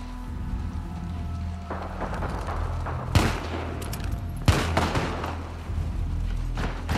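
Gunfire in The Last of Us Part 2: two sharp, loud shots ring out over a constant low rumble and game ambience, with fainter impacts scattered around them.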